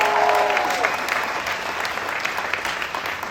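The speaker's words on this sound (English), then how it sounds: "Let's give them a round of applause." A crowd at the AIDS Walk 2015 opening ceremony applauds steadily, a dense wash of clapping that fades slightly toward the end, with a brief tone at the start.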